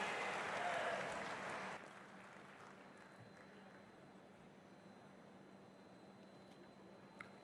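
An audience applauds Defence Minister Rajnath Singh at a foundation stone laying ceremony for a rail manufacturing hub, with a burst of clapping in the first two seconds that cuts off, leaving a quiet hall.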